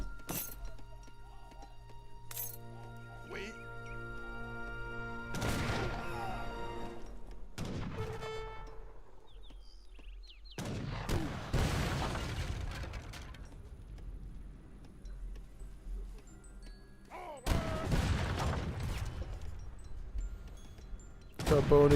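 Musket volleys and cannon blasts in an Age of Empires 3 multiplayer battle, with British musketeers massed against longbowmen and cannons. Dense bursts of crackling gunfire and booms come in waves over a busy game soundscape, loud and layered.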